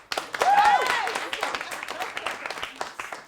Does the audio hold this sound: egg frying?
no